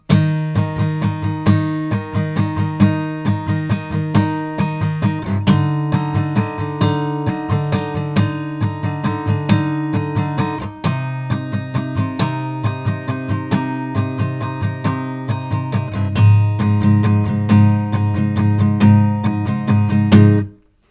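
Acoustic guitar fingerpicks a soft chorus, steady arpeggiated notes with a low bass line that thickens toward the end, close and fairly loud, no talking.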